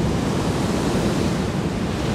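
Ocean surf breaking at a beach in Puerto Escondido, Oaxaca, Mexico, heard as a steady, loud wash of wave noise with wind rumble on the microphone and no voices.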